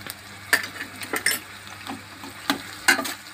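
Chutney stirred into a frying potato, onion and poha mixture in a pan, with a soft sizzle under scattered scraping strokes of a spoon, close up, and no voices.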